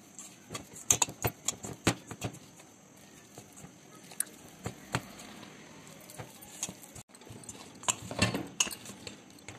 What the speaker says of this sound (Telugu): మనం ఇలా పిండిని కలుపుకోవాలి మెత్తగా కొంచెం చపాతీ పిండిలాగా కలుపుకోవాలి